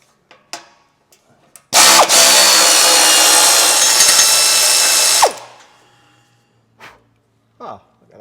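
A power tool whirs loudly and steadily for about three seconds, loosening nuts and bolts on a Chevrolet Cruze 1.4 engine during removal, with scattered clicks and clanks before and after.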